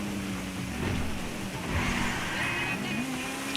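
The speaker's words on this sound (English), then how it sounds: "It's got a decent exhaust note" Car engine in GTA 5 Online, a steady droning exhaust note with low rumble and rising revs, fairly loud and continuous with no talk over it.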